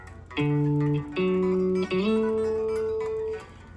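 An instrument plays sustained notes that glide smoothly from one pitch up to another, a clear slide between notes, alone and fairly loud.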